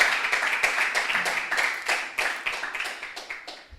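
Church congregation claps in a quick, rhythmic, fairly close burst, the individual hand claps distinct and evenly paced, slowly fading over a few seconds with no voices on top.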